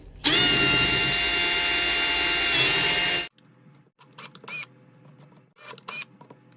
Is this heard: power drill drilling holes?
yes